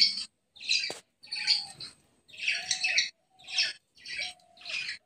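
Several pet birds, one of them yellow, chirp and tweet in short repeated bursts while feeding on grit, their calls close and fairly clear with brief pauses between them.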